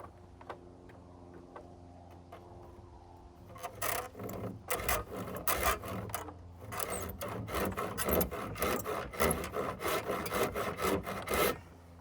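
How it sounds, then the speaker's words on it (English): Handsaw cutting a wooden fort corner: a few light scrapes at first, then steady rhythmic back-and-forth strokes grow loud and close, with rasping wood friction continuing to the end. "Let's see if we can saw this down this one corner"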